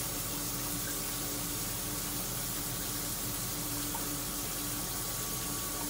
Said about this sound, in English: Notice you hear the shower.